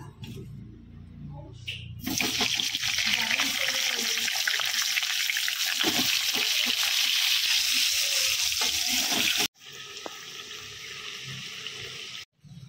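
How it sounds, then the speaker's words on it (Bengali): Potatoes fry in mustard oil with a loud, continuous crackling sizzle that starts abruptly, runs for several seconds, cuts out, then resumes more quietly. "এখানে এবার আমরা আলুগুলোকে একটু ভেজে নেব।"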